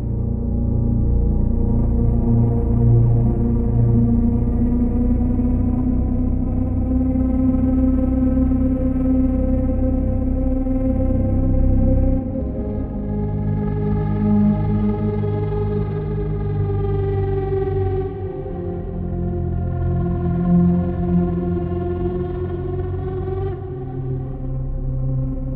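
A sustained synthesizer drone patch with four layered harmonic tones and a chorused, shimmering texture, shifting slowly over time; steady and fairly loud, no voices.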